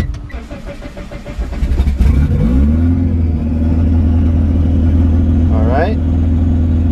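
A Mitsubishi Eclipse engine running on Speeduino engine management cranks briefly, catches and settles into a steady, loud, close idle with a raised RPM hum, with a short whine near the end.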